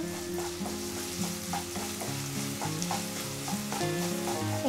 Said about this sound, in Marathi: एक 3 ते 4 मिनिटं कैरी जी आहे ती छान अशी फ्राय करून घ्यायची।